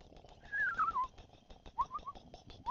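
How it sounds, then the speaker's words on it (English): Faint whistling bird calls in a Unity game scene, a descending trill followed by short chirping notes, sit over a quiet crackling background. "kind of a whistly bird sound"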